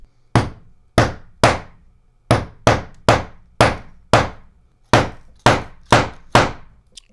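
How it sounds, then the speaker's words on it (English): A hammer drives snap buttons through the cotton fabric of a DIY chore coat, landing about a dozen sharp, close, loud strikes in uneven groups of two and three, each ending in a quick dull ring. "So now we just have to set this thing up and get hammering."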